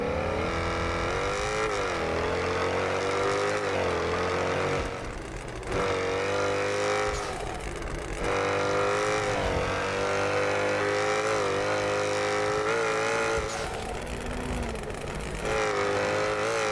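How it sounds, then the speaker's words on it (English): A video game car's engine revs hard and continuously, climbing and dropping through several gear changes, loud and close throughout with no voices over it. "I haven't driven this car in a while."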